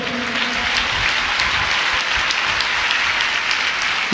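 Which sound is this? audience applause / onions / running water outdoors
audience applause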